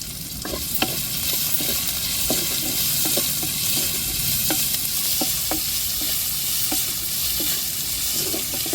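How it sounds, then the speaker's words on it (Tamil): Onions sprinkled with powdered salt sautéing in a pan for a shrimp kuzhambu: a constant sizzle close by, broken by frequent irregular clicks and scrapes of a spoon stirring against the pan. "அப்போ தான் சீக்கிரம் வெங்காயம் வதங்கும்."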